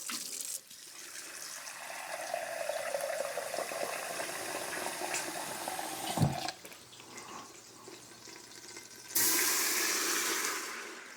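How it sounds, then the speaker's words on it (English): Two cups of water poured into an Instant Pot after browning a leg of lamb, a continuous splashing pour that swells and then stops with a clunk, followed by a brief sizzle and a bright hiss. "We are going to put in 2 cups of water."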